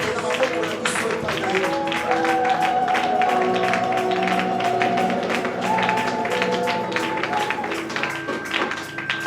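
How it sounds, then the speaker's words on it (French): A church seminar congregation claps and cheers in steady, dense applause lasting throughout, with sustained musical tones from an instrument underneath. "Reçois nos acclamations à titre de reconnaissance."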